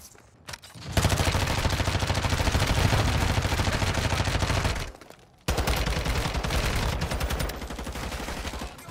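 Minigun firing in Modern Warfare 2 during a raid mission, a loud sustained roar of rapid fire held for about four seconds, a brief pause, then another long burst, with no talking.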